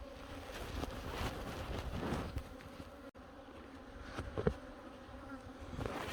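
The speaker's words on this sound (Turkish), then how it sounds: "Arının sağından, solundan, arkasından kovana girmeye çalışıyorlar." Robber bees buzz steadily around a hive in autumn, trying to enter from all sides, a dense close drone with wind rumbling against the microphone.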